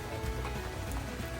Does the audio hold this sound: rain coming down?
yes